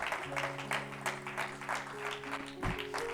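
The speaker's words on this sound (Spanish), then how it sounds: "les arranqué un aplauso para Cristo" Applause from a church congregation during a sermon, steady clapping with a sustained musical tone underneath, moderately faint and even throughout.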